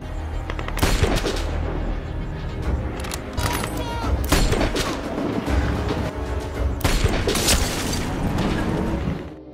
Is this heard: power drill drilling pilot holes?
no